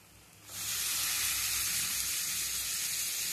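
Washed chicken pieces hit hot frying masala for a chicken gravy, bursting into a loud, sudden sizzle that settles into a steady bright crackling hiss with no talk.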